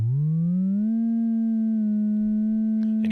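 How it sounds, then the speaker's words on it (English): A synthesizer oscillator set to a sine waveform holds a pure, steady tone that slides up in pitch at the start and then stays level, with a faint click near the end. "So this one is, I believe, a sine wave."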